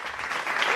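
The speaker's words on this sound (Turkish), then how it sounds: "ben bir alkış patlatayım burada şöyle bir." A short burst of applause in a podcast, a dense clatter of clapping that stays steady and fairly loud for under a second.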